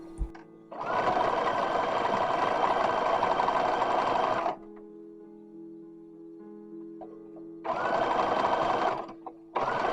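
A sewing machine hems a small cloth doll garment, running in two long steady whirring bursts of stitching with a quieter pause between them, then starting again briefly at the end.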